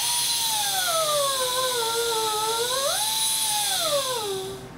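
A power carving tool grinds into a wooden bird carving, trimming excess from a wing tip: a steady high-pitched whine that dips and rises in pitch as it bites into the wood, loud and close, with no talk.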